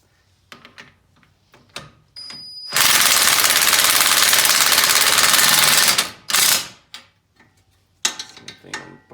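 A socket wrench works a CV axle bolt on a 2007 Subaru Impreza WRX wagon: scattered close clicks and taps, then a loud continuous rapid mechanical buzz lasting about three seconds, a short burst after it, and more clicks.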